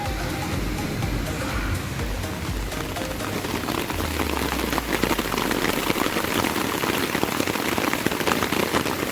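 Heavy tropical storm rain pours steadily outside a camp, a dense unbroken hiss of drops drumming on a nearby surface and growing louder partway through, with no voices.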